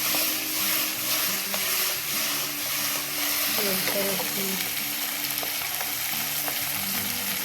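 Stuffed red chillies sizzling in a pan as they are stirred, a steady frying hiss with scattered spoon scrapes and clinks throughout, while someone talks over the cooking.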